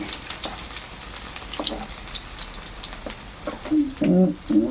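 Onion frying in oil for a mushroom roast gives a low, continuous hiss. Near the end, a few louder clinks and bumps of the pan or utensil sound close by.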